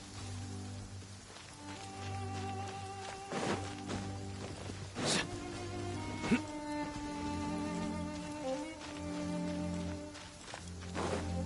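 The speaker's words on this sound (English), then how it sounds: "It's raining again." Rain falls in the Genshin Impact game world, a soft steady patter under sustained tonal music, with a few sharp splashy hits scattered through.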